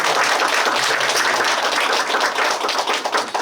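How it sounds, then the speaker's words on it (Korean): A church congregation at a Sunday worship service applauds steadily for several seconds, a dense, even wash of clapping with no voices above it. "하나님께 감사의 박수"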